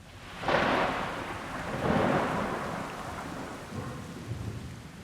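Thunder rumbles and rolls twice over a steady wash of heavy rain, loud and near, in the Camargue.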